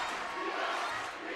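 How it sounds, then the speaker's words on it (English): Basketball crowd at a boys' high school game, a dense, steady roar of cheering and shouting that fills the whole moment without a break. "Already an electric crowd."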